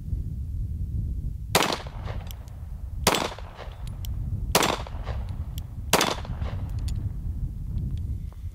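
Four sharp gunshots finish off a magazine at a steady pace, about one and a half seconds apart. Each loud crack rings out briefly, and no one talks.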